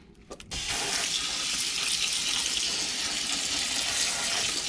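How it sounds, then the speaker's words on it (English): Canned beans are rinsed under a steady stream of running tap water, a continuous loud gush of water that starts after a brief moment of quieter clatter and runs on alone. "I'm gonna take some beans and I'm gonna rinse them and get all the juice out of them"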